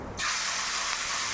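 Vegetable adai batter hits a hot pan over full flame and sets off a sudden loud, steady hissing sizzle that starts abruptly and holds evenly to the end.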